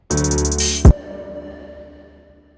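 A short synthetic tonal burst with a pitched, ringing hi-hat-like texture, ending in a sharp click and a fading tail; no voices.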